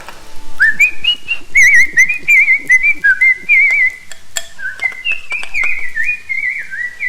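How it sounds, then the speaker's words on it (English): A person whistles a wavering, warbling tune during a cooking session making halal chicken, bright continuous notes with trills, close and loud, with faint kitchen clinks in the background. "We can have a whistle off."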